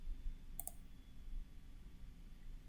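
A single mouse click on a computer in Microsoft Dynamics 365, a quick sharp double tick near the middle, close and fairly faint over a quiet room hum.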